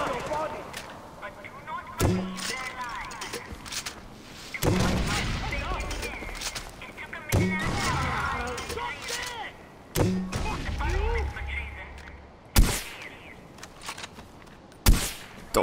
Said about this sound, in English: Don't know why I'm using this fucking rifle.